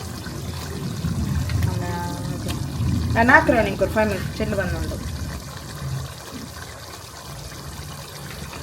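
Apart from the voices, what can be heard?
water being poured into curry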